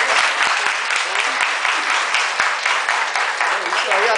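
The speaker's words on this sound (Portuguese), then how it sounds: "palmas aí para o" An audience bursts into loud, sustained applause at a church community gathering, many hands clapping densely with a few sharper individual claps standing out.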